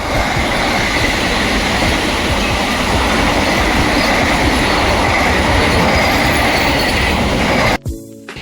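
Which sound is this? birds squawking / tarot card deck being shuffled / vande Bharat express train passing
vande Bharat express train passing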